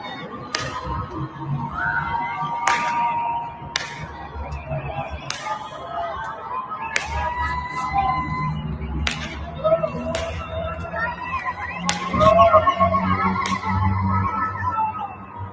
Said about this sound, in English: people are having fireworks and cheering